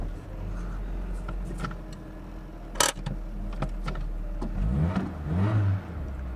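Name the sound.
Daewoo car engine revving after restart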